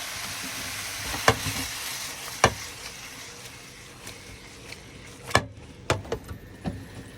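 Vegetables frying in a pan with beef for yaki udon, a steady soft sizzle broken by sharp clanks and scrapes of a utensil stirring, close up with no talk.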